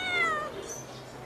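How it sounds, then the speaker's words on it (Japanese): An American Shorthair cat gives a single short, clear meow, fairly close and alone, fading into quiet room tone. "これはアメリカンショートヘアという猫です"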